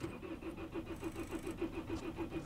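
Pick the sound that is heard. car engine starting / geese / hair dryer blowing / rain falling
car engine starting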